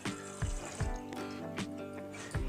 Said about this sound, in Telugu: మనం గ్లాస్ పాలుకి గ్లాసులో సగం వాటర్ వేసుకుంటున్నామండి